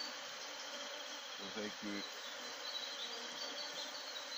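Honeybees buzz steadily around a neglected, run-down beehive in need of new frames, a dense close swarm drone filling the whole clip, with a brief low knocking in the middle.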